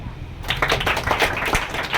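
Children clapping their hands during a Sunday school game, with a clustered burst of close, uneven claps starting after a brief pause, while a few voices are heard in the background.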